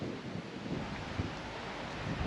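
Steady, roaring wind buffets the microphone on a cold mountain summit in a continuous broadband rush, with no voices, just blustery gusts throughout.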